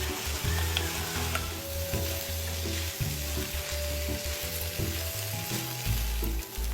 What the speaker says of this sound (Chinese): 再将预先备好的香米倒入一起翻炒